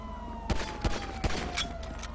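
Pistol gunfire in Grand Theft Auto 5, three quick evenly spaced shots from a distance over a steady background hum.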